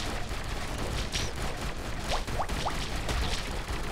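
Sharp booming cannon shots and bursts in the video game Defend Your Life, over a dense, noisy game soundscape, with a few rising whooshes in between.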